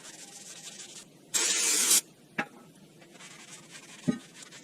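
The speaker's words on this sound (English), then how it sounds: "Spray the new rotor with brake cleaner to clean and remove the thin layers of grease." A single hissing spray of aerosol brake cleaner onto a new rear brake rotor of a Toyota Tundra, lasting about half a second, loud and close, with faint clicks and a quiet background before and after.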